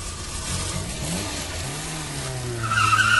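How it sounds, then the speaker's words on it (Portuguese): A car's tyres squeal as it speeds away in a Brazilian radio drama about traffic rules, a steady loud skidding screech layered over a revving engine that rises in pitch and intensity toward the end. "sai cantando os pneus"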